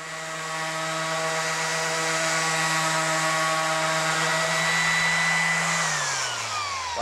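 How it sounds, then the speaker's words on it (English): A Bosch 1348 AE mini angle grinder runs steadily at full speed, a loud continuous high-pitched whine that winds down near the end. "An excellent choice when you're looking for a mini grinder would be the Bosch"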